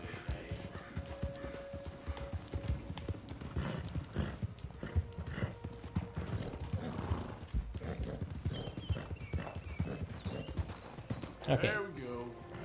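Rhythmic clip-clop of horse hooves trotting steadily in Red Dead Redemption 2, with a brief whinny near the end, under busy background sounds.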